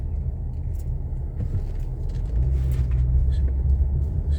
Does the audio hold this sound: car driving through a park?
yes